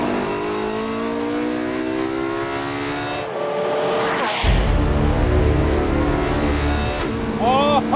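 A Porsche engine on the Abu Dhabi circuit revs hard toward 9,000 RPM, a loud rising howl that climbs, drops sharply at a gearchange, then surges again with roaring acceleration, close to the microphone.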